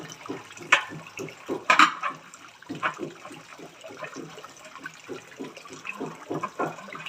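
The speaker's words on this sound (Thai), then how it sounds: "มาทีนี้ล้างช้อน" Tap water runs and splashes while a spoon is rinsed during a kindergarten life-skills lesson, with irregular clinks and drips close by and quiet talk in the background.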